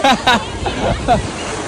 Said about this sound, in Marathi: बघा कसली लाट आली